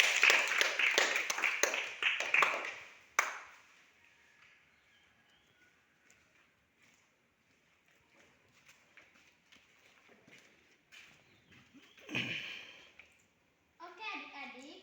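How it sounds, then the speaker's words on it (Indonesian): Children at a Sunday school session clap together in a short burst of applause that stops abruptly, followed by quiet room sounds, scattered movement and faint voices. "Berikan tepuk tangan dulu."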